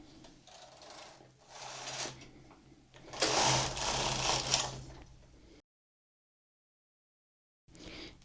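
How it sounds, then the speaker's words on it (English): A knitting machine carriage slides across the needle bed for two passes while knitting an inlay, making a loud, close, rasping mechanical whirr that pauses and then starts again. "And now I'm going to knit 2 rows."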